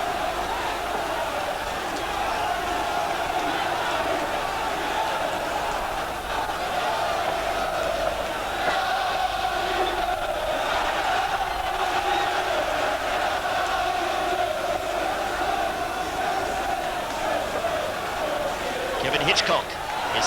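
A football stadium crowd at a 1987/88 Chelsea v Charlton match keeps up a continuous roaring murmur, with a commentator's voice talking over the dense, steady crowd noise throughout.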